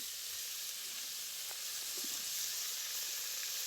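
Country chicken meat sizzles steadily in a pan during village-style cooking, a constant soft frying hiss with a few faint stirring clicks and no voices.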